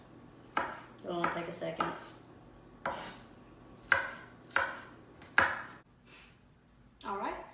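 A knife dices an onion on a cutting board, giving a handful of sharp, uneven chopping knocks close by while a person talks in between.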